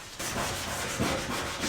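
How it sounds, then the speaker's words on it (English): Hand sanding scrapes over truck fenders to take off paint overspray, a close, continuous rasping rub with a few slightly stronger strokes, no voices. "I'm just sanding all the overspray off the top of the fenders here"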